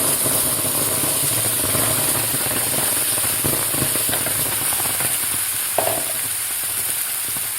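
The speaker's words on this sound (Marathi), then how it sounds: "आता यामध्ये घालायचे आपल्याला आता टोमॅटोची पेस्ट घालायची आपल्याला." Tomato paste sautéing in a hot tempering of curry leaves for a tomato chutney, a steady broad sizzle and crackle running throughout with a faint stirring clink near the end, no voices.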